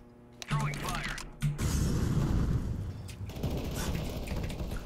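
Incendiary grenade thrown in Counter-Strike: Global Offensive, a short thump followed by a sustained roaring whoosh of spreading fire, with a voice talking briefly before it.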